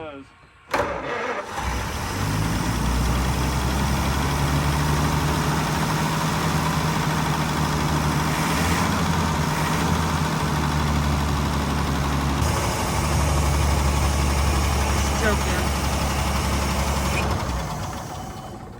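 A 1927 Chrysler sedan engine with a clogged carburetor cranks and catches, then runs in a loud, close, rough, low rumble for most of the clip, with people talking over it.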